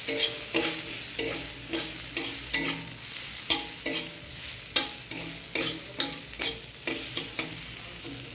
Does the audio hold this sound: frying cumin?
yes